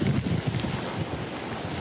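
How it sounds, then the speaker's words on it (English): Strong storm wind gusts over 100 mph from an unprecedented storm hitting the Big Bend area buffet the microphone in a steady, loud, low roaring rush with no talk. "you can see these winds really picking up"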